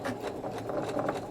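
Sewing machine running a short back stitch through a strap on a durable reusable tote bag, a quick rapid mechanical chatter of the needle lasting about a second, close and steady.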